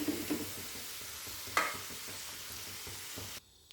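Pieces of dragon chicken frying in hot oil, a dense steady sizzle with faint clicks and a brief louder burst partway through, ending abruptly.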